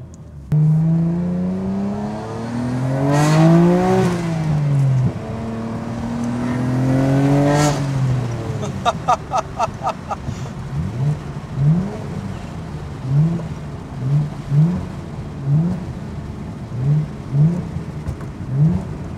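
A 1995 Nissan Skyline GT-R R33 with a new Tomei titanium exhaust revs up loudly, rising and falling twice, then settles into a rhythmic series of short blips and burbles.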